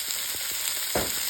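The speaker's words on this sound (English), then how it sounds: "So you can hear that beef browning beautifully right now." Beef browning in a pot over a backyard firepit during a winter camping cookout, a continuous close sizzle and fry crackle with a few soft stirring scrapes.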